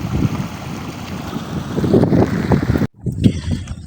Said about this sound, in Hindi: या पानी का शोर चेक करें और इसकी स्पीड देखें।